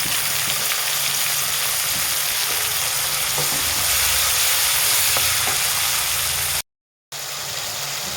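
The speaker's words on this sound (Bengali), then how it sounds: "চিংড়ি মাছ ভাজছি, সামান্য অল্প তেল দেবো, তেল আছে মাছ ভাজার তেল।" Giant freshwater prawns fry in a little oil with green chili, filling the pan with a loud, continuous close sizzle and spatter that runs unbroken until a short silent gap near the end.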